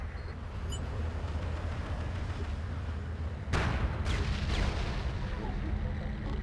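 Heavy bombing run striking ground targets in the combat game MAG: a steady low rumble of battle that breaks into a loud, sustained burst of explosive impacts partway through, with further blasts rolling after.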